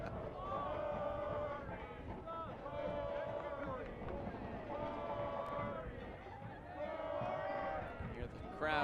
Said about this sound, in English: Hear the crowd chanting Corey Hertzog's name as he makes his way off